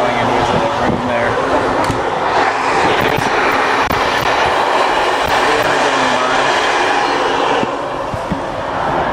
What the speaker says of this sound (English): It's a squeezy little train.